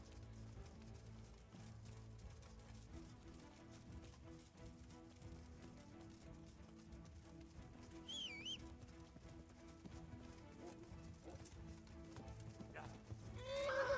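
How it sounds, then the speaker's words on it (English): A horse in the video game Kingdom Come: Deliverance trots with soft clip-clopping hooves and gives a brief whinny, all faint and low under quiet game ambience. "Cavalo."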